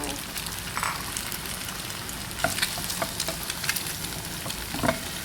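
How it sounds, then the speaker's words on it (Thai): Straw mushrooms stir-fry in a pan with a continuous close sizzle, while a spatula scrapes and taps in irregular bursts. "ผัดเห็ดให้สุกเลยนะคะ"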